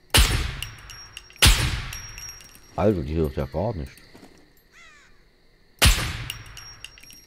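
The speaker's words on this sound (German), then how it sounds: "Wow, 3 Schüsse." Three sharp, loud gunshots ring out in the video game SCUM, widely spaced with ringing decay, while someone speaks briefly between the first and last shots.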